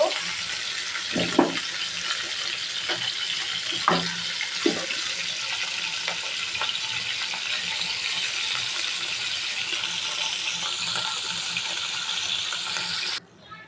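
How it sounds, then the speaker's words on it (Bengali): Fish frying in hot oil for a bitter gourd fish dish, a steady bright sizzle with a few knocks of a utensil early on, cutting off abruptly at the end. "এখন এটাকে আমি ভালো করে ভেজে নেব।"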